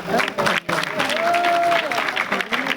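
Audience clapping loudly at a Bihar Diwas celebration, welcoming a female singer to the stage for a Holi song; dense, steady applause fills the whole stretch with a brief dip, and a sustained sung or whistled tone rises over it midway.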